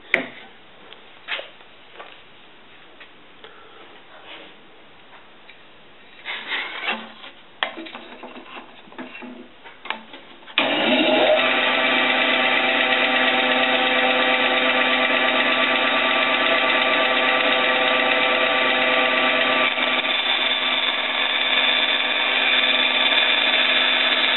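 A power tool cuts a wooden pattern piece out along a marked line for a mirror restoration, starting after scattered handling knocks and then running as a loud, continuous, steady whine close by.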